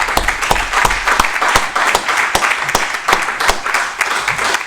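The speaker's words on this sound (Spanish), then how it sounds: "Damos un aplauso" A small audience at a business talk applauds, with distinct individual claps in an uneven, fairly close patter that holds steady for several seconds.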